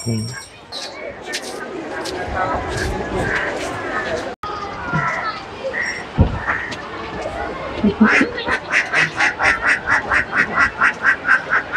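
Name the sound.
duck quacking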